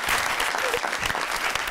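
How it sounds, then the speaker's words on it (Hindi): Loud, dense clapping from a studio audience on a Pakistani comedy talk show, continuous and close-sounding, with a few brief voices mixed into the ovation. "तालियां।"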